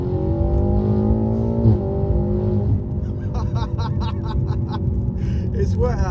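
A Stage 2 tuned BMW F90 M5 Competition engine revs and climbs through gears as it launches from a standstill on a wet road, loud and close from inside the cabin, with a voice speaking over the later part.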